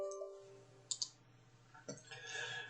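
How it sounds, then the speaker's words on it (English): A computer mouse clicks twice in quick succession, a crisp close pair, with another soft click and faint desk handling sounds afterwards against quiet room noise. "Double click it."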